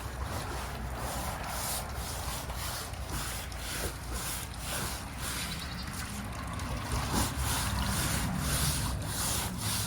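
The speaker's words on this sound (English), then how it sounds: "He's scrubbing that wall." Stiff brush scrubbing algae off the wall of a farm pond, a steady rhythmic rasping with repeated strokes, fairly loud and close, with a bit of water and outdoor noise behind it.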